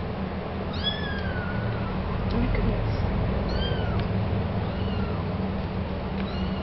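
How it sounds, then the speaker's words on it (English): A cat gives several short, thin meows at moderate distance over a steady low hum that fills the room. "You're meowing at me?"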